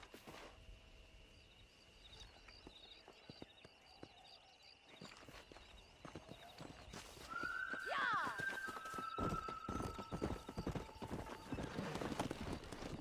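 Steady clip-clop of horse hooves trotting and then galloping in Red Dead Redemption, with a loud neigh midway and rising pace toward the end, amid faint outdoor ambience.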